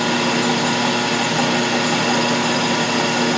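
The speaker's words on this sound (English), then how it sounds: "This lathe actually runs quieter" A running Atlas metal lathe gives off a steady, even mechanical whir with a constant motor hum, loud and unbroken, with no other sounds.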